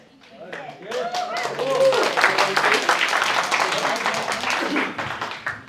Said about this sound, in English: give him a round of applause for kicking us off